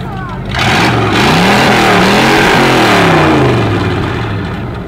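American car at a US car meet at Stříbrný rybník, its engine revved into a loud, close, rising and falling exhaust roar that holds for several seconds.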